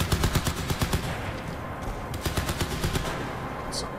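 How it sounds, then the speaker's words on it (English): Rapid automatic gunfire in the shooter video game Crysis 3, a dense rattling burst of shots at the start that eases off and then returns in a second rapid volley, loud and close in a busy combat mix. "Who's shooting at me?"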